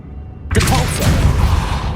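Bombarda blasting spell cast in Hogwarts Legacy: a sudden loud burst about halfway in, followed by a sustained roaring, crackling rumble that carries on to the end.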